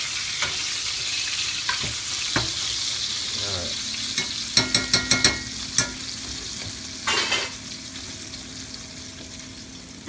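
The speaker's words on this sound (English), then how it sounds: "We'll baste here. Kind of get that beautiful brown butter on all fish." Fish sizzles in brown butter in a hot pan while it is basted, with a constant loud crackle and a quick run of metallic spoon taps and scrapes against the pan, heard close and without talk.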